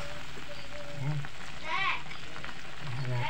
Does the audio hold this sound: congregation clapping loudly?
no